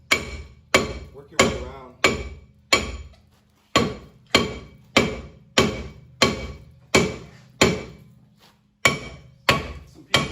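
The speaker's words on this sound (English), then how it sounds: "go back on the handle a little bit farther, I think, and smack that right there" A hammer strikes a rear brake rotor on a 2006 Chevrolet Impala to knock it loose: about fourteen sharp metallic blows in a steady rhythm, each ringing briefly, with a short spoken remark from a person nearby.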